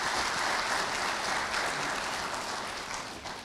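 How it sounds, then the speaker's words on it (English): Applause from a convocation audience for the parents of graduates, a dense, even wash of many hands clapping that holds steady and begins to thin toward the end. "a round of applause for your parents who decided"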